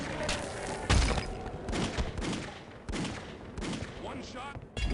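Gunfire in Fallout, the Vault 112 area: several loud, sharp shots spaced irregularly across a few seconds, up close over a busy game background.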